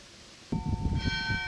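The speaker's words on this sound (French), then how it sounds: "Au son de la cloche, derrière moi, l'église nous invite à franchir sa porte." Church bell of a small village church in Florent-en-Argonne, France, ringing behind the speaker: a clear metallic strike that starts abruptly, then a second ring that sustains with a bright lingering tone over low rumble.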